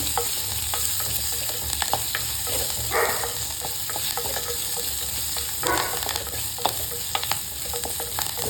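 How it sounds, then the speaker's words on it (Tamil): Curry leaves and onions sauté in a pan, with a steady close sizzle of frying and occasional scraping stirs of a spoon, and no voices. "எல்லாம் போட்டு நல்லா வதக்கி விடுங்க"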